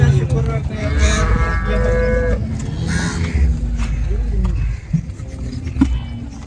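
HF dairy cows mooing at the Loni cattle market, a few loud, drawn-out moos close by amid crowd chatter, crows cawing and general market bustle.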